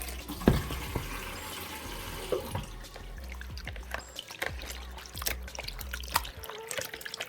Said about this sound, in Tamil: நம்ம ஸ்லைஸ் பண்ணதுக்கப்புறம் நல்ல தண்ணியில் அலசி எடுத்துக்கலாம்